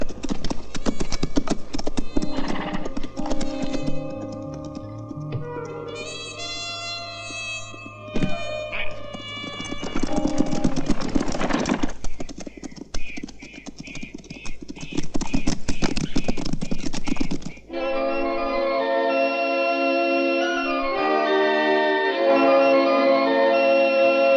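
Horses gallop with rapid, loud clip-clop hoofbeats that rise and fall, mixed with rumbling movement and a neigh, followed by a stretch of music.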